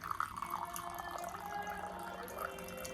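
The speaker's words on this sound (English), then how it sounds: "And I'm going to pour out the tea." Tea poured from a pot into a large gold-decorated German porcelain cup, a soft continuous trickle and splash that holds steadily for a few seconds, close and fairly quiet.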